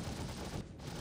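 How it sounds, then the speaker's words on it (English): A short stretch of rapid gunfire in a first-person video game firefight, a dense, steady stream of shots at moderate level with a brief dip near the end. "We're getting shot pretty badly over here"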